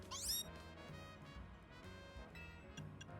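Meowth Pokémon meowing in the video game Pokemon Legends Z-A: a cute, high cat-like cry that opens loud, with more soft meows over game music.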